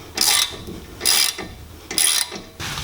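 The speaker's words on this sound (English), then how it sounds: "So to take the caliper off first, I'm using a 1/2 inch socket with a short extension and then a medium-sized ratchet." A medium ratchet with a 1/2 inch socket and short extension clicks in three loud, close bursts while loosening a brake caliper bolt on a Mercedes-Benz E350, with brief pauses between strokes.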